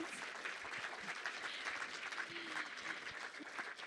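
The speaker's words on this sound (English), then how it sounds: "I feel like we should clap every answer." Audience at a fireside-chat craft session for producers and engineers claps, a faint, distant round of steady applause with little else.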